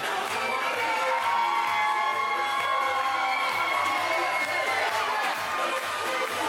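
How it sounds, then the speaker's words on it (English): Wrestling arena crowd cheering and shouting for a wrestler's entrance, a dense, loud, sustained roar with scattered whoops that holds steady throughout. "And listen to this crowd."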